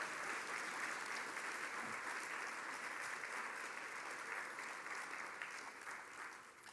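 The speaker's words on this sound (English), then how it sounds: "One more round of applause for Senator Debbie Stabenow." An audience at an evening celebration gala applauds Senator Debbie Stabenow, a sustained, even wash of clapping from many hands that tapers slightly toward the end.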